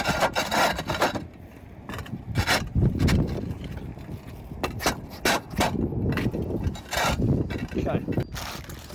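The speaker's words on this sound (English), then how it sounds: "So I usually just kick up a couple of tiles." Roof tiles being kicked up and shifted on a house roof for a skylight fitting, giving repeated scraping, knocking clatters in uneven bursts, fairly close and loud, with no talk.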